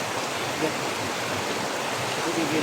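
Water rushing through a narrow stream passage among roots, a steady broadband wash that fills the whole clip at moderate level, with no voices.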